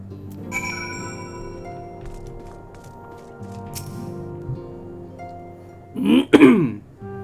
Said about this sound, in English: Trying to clear my throat ahead of time.